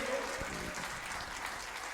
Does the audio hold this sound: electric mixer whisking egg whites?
no